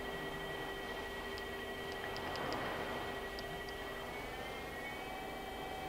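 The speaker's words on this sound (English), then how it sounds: "Spindle's very quiet on this machine. That's 2500 RPM." Spindle of a Chevalier FSG-B818CNC CNC surface grinder running at 2500 RPM gives a faint, steady hum with thin tonal whines over a quiet broadband hiss, plus a few soft ticks.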